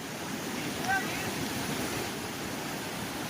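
Floodwater rushing near Gira waterfall in Dang during the monsoon rains, a steady broadband roar with no breaks, continuous and fairly loud with no clear voices over it.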